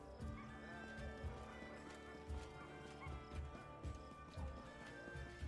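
Horses in the fantasy video game Pathfinder: Kingmaker clop and snort in a busy city scene, hooves thudding repeatedly under soft background music, with a faint whinny.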